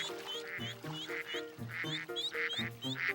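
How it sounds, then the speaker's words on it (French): Cartoon ducks quack repeatedly in a fairly regular rhythm, several nasal calls in a row, close by and moderately loud, in the French children's animated series Caillou. "Ils sont mignons ces canards, hein Caillou?"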